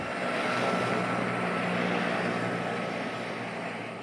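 A news helicopter's engine drones steadily overhead, a continuous broadband roar that fades slightly toward the end, with no voices.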